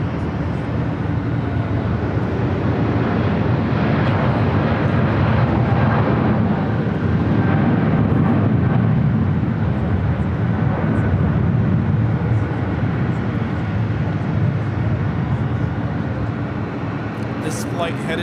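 A United heavy jet rolls for takeoff on runway 25 right at LAX, a steady broad roar of engines that holds loud for the whole stretch, with radio-style talk running over it.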